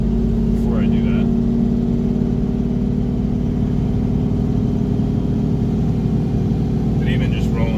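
A turbocharged EFI 460 Ford V8 pulls steadily under boost from inside the cab, its deep, continuous engine drone loud and unbroken, with some faint whistling on top.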